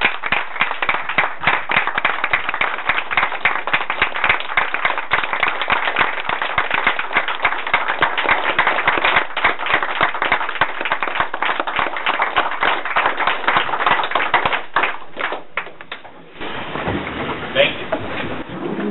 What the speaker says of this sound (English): I think we could give him a round of applause.